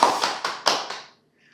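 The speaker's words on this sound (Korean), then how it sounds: "일단 박수로 한번" A handful of sharp hand claps greet a speaker at a Korean academic lecture on economic polarization, about five distinct claps within a second that fade out quickly.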